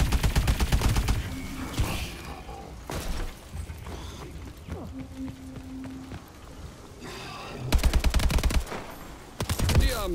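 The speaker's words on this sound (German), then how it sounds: "Warum schießen die so schnell plötzlich?" Rapid automatic gunfire in Call of Duty Advanced Warfare Exo Zombies, fast rattling bursts at the start and again near the end, with sparser shots, mechanical clicks and game effects between, loud and close.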